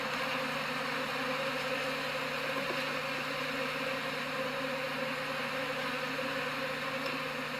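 Honey bees hum steadily around an opened hive during a reverse split of a colony in Durango, Colorado, a dense continuous buzz close by, with no talk.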